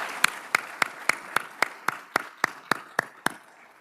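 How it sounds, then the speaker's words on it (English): Clapping at a military retirement ceremony comes as a steady, evenly spaced train of about a dozen crisp, sharp claps, close and distinct rather than a blended crowd roar. "let's give Jimmy a big round of applause"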